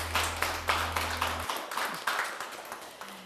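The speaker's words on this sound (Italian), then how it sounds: "Facciamo un applauso a Luca Valzania" Studio audience applause on an Italian sports television show, a steady run of claps with regular sharp hits over a low hum that cuts out halfway through.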